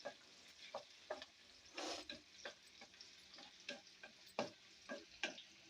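Chopped onions fry in a generous amount of hot oil for mutton curry, with a faint low sizzle and regular spoon stirs and taps recurring about every half second.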